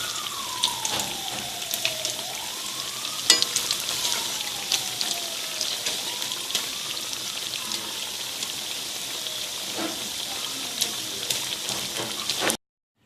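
Potato kababs (aloo kabab) fry gently in oil over a low flame, giving a soft continuous crackle with scattered small pops, steady and fairly quiet, before it cuts to silence at the end.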